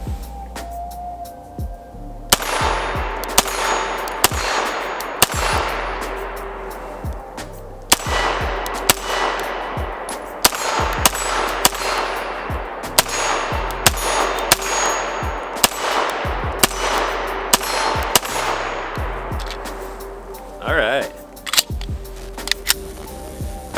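A steel-framed Jericho 941 F9 pistol is fired at an outdoor range. Sharp, loud shots come in a fairly regular string, each trailing a short ringing echo, with a brief pause before a few final rounds.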